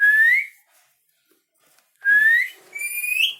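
A pet parrot gives clear, loud whistles: a short rising note, a pause of silence, then another rising note that runs into a longer, sliding whistle phrase.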